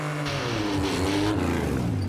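An IndyCar engine revs hard from a standing start in a short drag race against an Olympic sprinter, a loud rising harmonic whine that climbs in pitch through the clip and stays up close.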